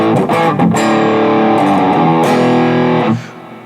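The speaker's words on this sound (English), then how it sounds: "this is just a straight ahead rock sound. And in there you have a little bit of reverb, you have a little bit of drive" An electric guitar plays through a NUX Cerberus multi-effects pedal on a chunky rock drive setting with a touch of reverb, loud sustained distorted chords ringing out before the tone cuts off and a short reverb tail fades.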